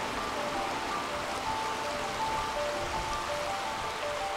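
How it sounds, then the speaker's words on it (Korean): A clear mountain stream in Ulju running over rocks: a steady, unbroken rushing and burbling of water, constant in level throughout with no voices. "맑은 물소리에 발길을 재촉하면"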